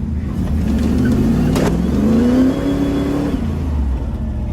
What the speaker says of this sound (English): No, that was tire. It was one wheel peel.